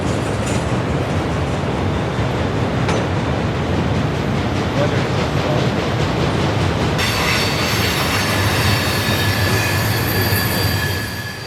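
An FEC freight train rolls past close by in the Miami area, a loud continuous rumble of railcars with clattering wheels and high metallic squealing on a curve, persisting throughout.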